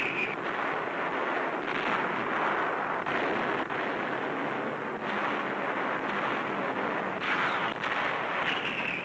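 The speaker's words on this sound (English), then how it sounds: "The heaviest Allied barrage of the war precedes a dawn attack." Heavy Allied artillery barrage before a dawn attack in a World War II newsreel, a dense, continuous roar of rumbling blasts and booms with no pauses, loud and sustained throughout.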